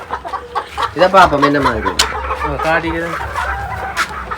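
Old English Game Bantam chicken on a Jaffna chicken farm, clucking in a few short bursts close by while someone talks over it.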